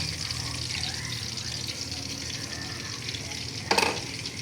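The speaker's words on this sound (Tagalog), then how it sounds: "Wow, kumukulo na." Water bubbling and simmering in a cooking pot before tuna is added, a steady hiss with soft bubbling throughout, then a brief louder splash or clatter near the end.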